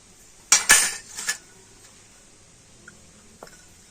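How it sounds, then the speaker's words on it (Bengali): Bowls clatter and clink in a quick burst of three or four knocks as white oil is brushed into four of them, then a quiet stretch with one faint later tap. "তো প্রত্যেকটা বাটিতে আমি সাদা তেল খুব ভালো করে লাগিয়ে দিচ্ছি।"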